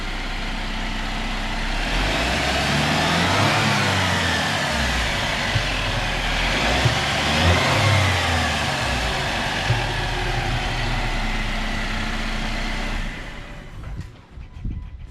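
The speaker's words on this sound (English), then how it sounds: "Sounds like a 2-liter turbo." A loud 2021 Jeep Wrangler Rubicon 2-liter turbo engine runs steadily close by with a deep rumble and rising and falling revs, then cuts off sharply near the end.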